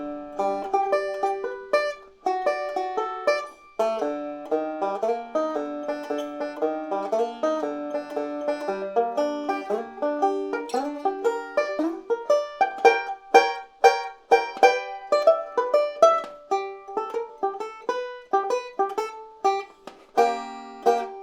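Banjo picking the Maple Leaf Rag at a slow, steady practice tempo, bright plucked notes and chords ringing out alone in a close, clean recording with no talking.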